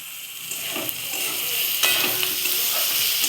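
Spiced vegetables sautéed with chili powder in a pan for a vegetarian banana-stem dish, a soft sizzle with light spatula scrapes and stirring taps, fairly quiet and alone.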